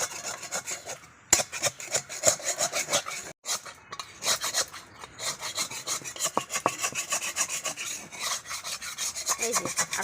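A utensil scrapes stuck fried taro paste (kochu bata) off a kadai in quick, repeated rasping strokes, close and dry-sounding, with short pauses between bursts and no voices.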